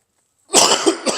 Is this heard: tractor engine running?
no